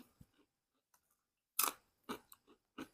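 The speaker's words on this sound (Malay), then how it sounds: "Keropok dia rangup." Crunchy keropok crackers eaten with tamban fish give a few loud, sharp crunching bites close to the mic, each followed by quieter chewing, with silent gaps between and no talk.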